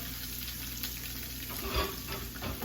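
Chunky-cut red onion frying in a pan gives off a steady, dense sizzle with a brief stir-like swell partway through, close and continuous without speech.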